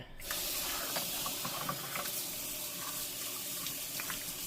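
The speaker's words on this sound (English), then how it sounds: "we can put the stack of dishes back in here, and then we can start rinsing" Running tap water pours steadily into a kitchen sink as a stack of dishes is rinsed, a close, continuous broadband hiss with faint clinks of dishware throughout.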